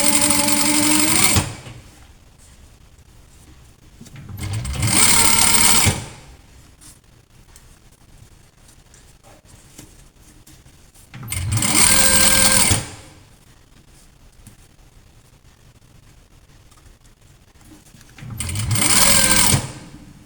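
A sewing machine stitches a zipper onto a purse in four loud bursts of rapid mechanical whirring, each lasting a second or two, with quiet pauses between them.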